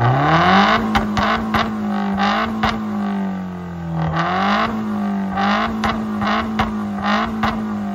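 A car engine idles with a steady hum, then revs up and down repeatedly in short bursts, loud and close.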